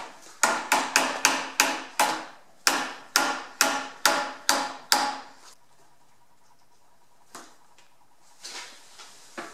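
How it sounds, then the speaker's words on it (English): A run of about a dozen sharp, ringing hammer knocks on a scooter air horn mount in steady rhythm, close by, then quiet with a few faint clunks. "I'm just hitting it with a hammer to kind of knock it down"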